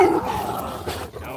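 A dog on a seaside walk in Withernsea gives a short yip or bark near the start, then fades into outdoor background noise with no clear further barks.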